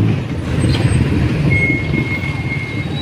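Heavy road traffic on a street in Rizal, Philippines, with trucks and buses rumbling steadily close by, a brief air-brake hiss and a thin high whine over the continuous engine drone.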